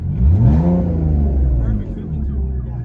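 A 2005 BMW 325i with a 2.5-liter inline-six and two-and-a-half straight-pipe exhaust run all the way back revs up hard, heard from inside the car, then settles into a steady loud drone with a voice over it.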